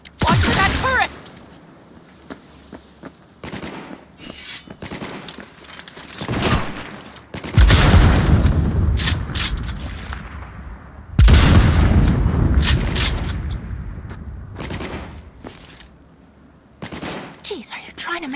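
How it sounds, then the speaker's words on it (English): Turret gunfire and explosive booms in Cyberpunk 2077, with loud bursts and heavy impacts at intervals over a continuous game soundscape, and talk mixed in. "Watch for that turret!"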